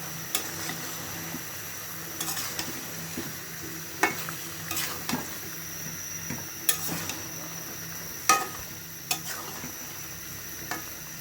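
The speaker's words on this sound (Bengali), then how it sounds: "পাশাপাশি কিছু ডিমও দিয়ে দিচ্ছি" Fish and eggs fry in oil with a steady sizzle, broken by sharp clinks and scrapes of a utensil stirring the pan at irregular intervals.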